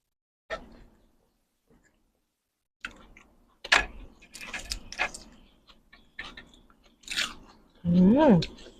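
Crunchy raw vegetables being chewed alongside a spicy Thai papaya-style salad with thin rice noodles, with close, irregular crunching bites spread across the clip and a short vocal sound near the end.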